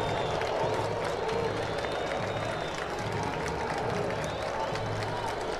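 A dense stadium crowd at a Copa do Nordeste quarter-final football match between Santa Cruz and CRB roars and jeers at a sent-off player, a loud, steady mass of voices that carries on without a break.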